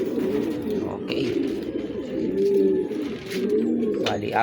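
Racing pigeons coo in low, throaty rolls near a loft as the birds return from a training release, with someone talking over the cooing.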